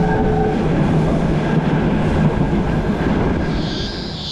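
A tram runs on its rails at a Sydney tramway museum, a steady loud rumble with rail clatter continuing throughout, close by and without voices.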